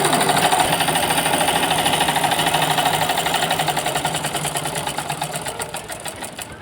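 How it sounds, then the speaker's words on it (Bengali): Palazzo pants being stitched on a sewing machine produce a rapid, even mechanical chatter that runs continuously and gradually slows and softens toward the end, close and alone without speech. "আস্তে আস্তে সেলাই করবা।"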